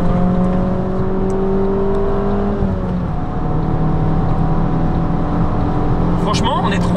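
A small-engined car carrying three people accelerates on the road, its engine note droning steadily and rising through the gears, loud and close from inside the cabin, with voices talking over it.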